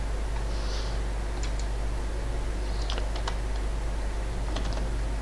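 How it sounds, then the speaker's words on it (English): Typing on a computer keyboard, soft irregular key clicks in short bursts over a steady low hum, fairly close and quiet, with no talking. "I'm typing the wrong English."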